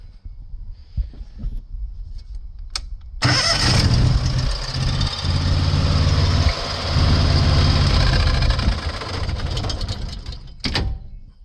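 A vintage 6x6 amphibious ATV, started in gear, cranks over after a few quiet seconds and catches into a loud, close, steady running engine with a low rumbling throb that continues until it cuts off near the end.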